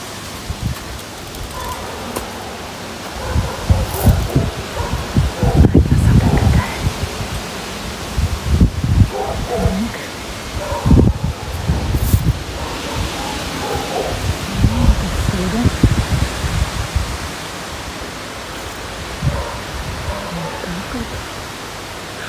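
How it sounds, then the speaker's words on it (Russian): Strong gusty wind rushing through garden plants such as irises, peonies and roses, with broadband rustling that swells and fades in irregular gusts, fairly close, with little else audible. "Шумит, шумит ветер, ой-ой-ой, какой."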